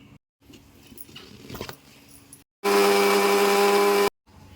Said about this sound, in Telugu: వేసుకొని మిక్సీ చేసుకోండి